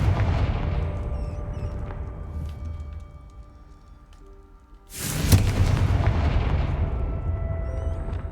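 A Confringo fire spell in Hogwarts Legacy explodes as a sudden loud, broad blast that rises out of a quieter lull and holds a dense rumbling roar to the end, over steady low game ambience.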